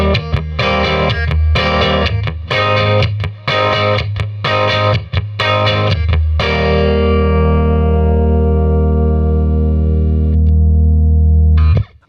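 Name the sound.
Jazzmaster electric guitar on bridge pickup through Princeton Reverb amp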